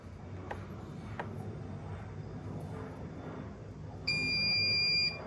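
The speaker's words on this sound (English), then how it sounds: "It beeped at me, which I think means it worked." A 2015-2022 Chevy Colorado emits a steady electronic beep tone during key fob programming, sounding clearly for about a second near the end over a low idling hum, with no talking.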